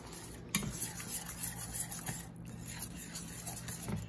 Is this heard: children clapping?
no